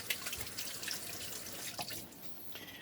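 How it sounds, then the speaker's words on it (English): Roma tomatoes are washed under a kitchen tap, with a quiet, steady stream of running water and soft drips and splashes as the tomatoes are turned in the flow. "Found some Roma tomatoes, which I'm gonna wash."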